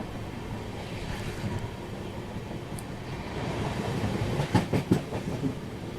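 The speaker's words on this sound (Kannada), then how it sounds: "ಪಂಚಗಂಗಾ ಎಕ್ಸ್ಪ್ರೆಸ್ ಇದಾಗ ಬೈಪಾಸ್ ಕ್ಯಾಬಿನ್ ಮೇಲೆ ಹೋಗುತ್ತೆ." The Panchaganga Express rumbles past a railway bypass cabin, a steady rolling roar that swells toward the end with a few sharp clattering wheel knocks over the rails.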